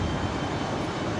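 Airliner departing Brisbane Airport, a loud, dense, continuous jet engine roar heard close and unbroken for a brief moment, with no voices.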